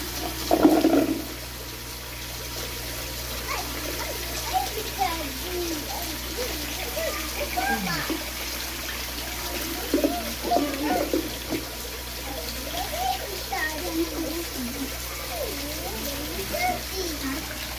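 Water pours steadily into a 21-square-metre biofloc tilapia pond holding 6,700 fish, a constant close rush with a brief louder splash at the start, while people talk over it throughout.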